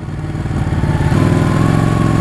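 Ducati Panigale 899 sportbike engine running at low speed while being ridden, a loud steady mid-pitched throb with a slight uneven, jerky pulse throughout.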